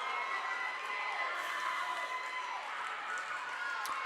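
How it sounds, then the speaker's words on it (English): Astronaut War Eagles fans cheer loudly at a high school regional volleyball match, a steady wash of crowd noise and whoops filling the gym for several seconds. "the Astronaut fans like that one as they give it a loud cheer"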